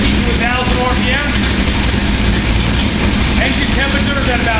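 A 1978 Corvette engine with a sizable cam idles steadily at around 950 to 1,000 RPM, a continuous low rumble running close and loud with no break.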